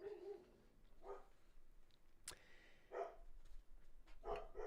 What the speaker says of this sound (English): as my dog barks, we are back